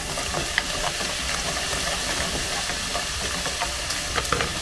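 Ginger and sauce stirred in a hot pan with drumstick spoons while cooking Mongolian beef, a steady close hiss and sizzle with light scraping taps throughout, no talking.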